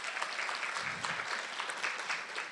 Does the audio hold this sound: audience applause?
yes